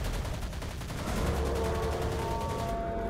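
Rapid automatic fire from a modded firearm in ARK Crystal Isles, a dense continuous burst of shots with a low rumble, fairly faint and steady throughout.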